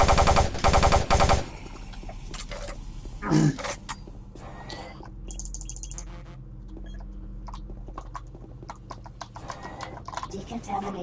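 Rapid bursts of gunfire in Doom 3, loud dense shots at the start followed by a single sharp blast, then quieter mechanical game sounds and a synthetic voice speaking.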